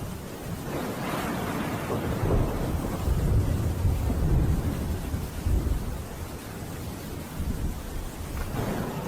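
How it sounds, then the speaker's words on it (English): Thunder rolls and rumbles deeply through a stormy sky after nearby lightning, a sustained low roar that swells in the middle and lingers, heard alone without voices. "That last thunder came right after the lightning."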